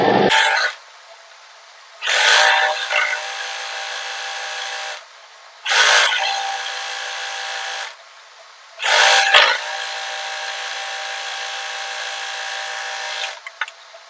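Sewing machine stitching the hem of a co-ord set in four separate whirring runs of a few seconds each, with quiet pauses between them.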